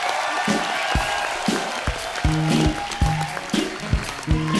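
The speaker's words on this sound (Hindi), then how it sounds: "जोरदार तालियों से एक बार स्वागत हो जाए" Steady applause from a crowd fills the space, with a few louder claps and low thumps standing out near the end.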